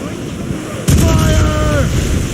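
A single loud, close cannon blast from a sailing warship in the Assassin's Creed Rogue video game booms out suddenly after a stretch of low rumble, with shouting voices ringing through the aftermath.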